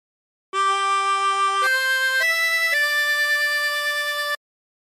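A harmonica plays a short phrase of the hymn Nearer My God To Thee, four sustained held notes one after another, clear and close with no talking.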